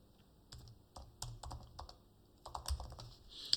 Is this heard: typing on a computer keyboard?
yes